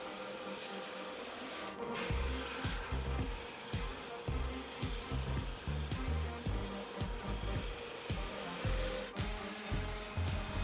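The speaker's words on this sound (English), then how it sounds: "Then I run them through the drum sander just to clean up the edges and make sure that the boards are flat so I can continue." A drum sander flattens and cleans the edges of wooden boards for mid-century end tables, giving a loud, steady motor drone broken by rhythmic thumping pulses as the boards feed through.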